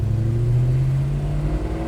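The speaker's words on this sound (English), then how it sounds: "Listen to that exhaust, man. Doesn't it sound awesome?" A 1969 Chevrolet Chevelle pulls away in low gear, its exhaust a deep steady rumble that rises slightly in pitch as it accelerates, loud and close, with no talking over it.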